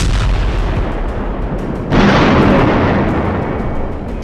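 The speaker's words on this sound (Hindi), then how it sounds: "जिस वक्त गाजा की गली गली में इजराइल के बम गिर रहे हैं, जिस वक्त गाजा पर इजराइल की वायुसेना टनों टन बमबारी कर रही है" Heavy bombardment during Israeli airstrikes on Gaza comes through as a sustained, loud roar of blasts and rumbling, swelling sharply about halfway through into a dense, close explosion that slowly fades, with no voices.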